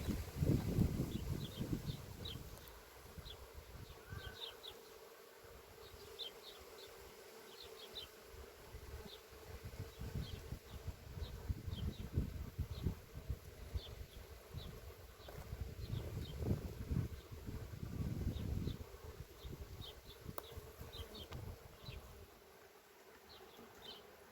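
Honeybees drone steadily around an open hive during an inspection, a loud close buzzing that rises and falls for the whole stretch. Faint high chirps from birds or insects sit in the background, and no one speaks.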